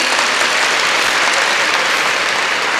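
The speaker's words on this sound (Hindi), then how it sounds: "एक बार तालियां होनी चाहिए" Loud, dense audience applause during a motivational speech event, a continuous roar of many hands clapping at close range with no break.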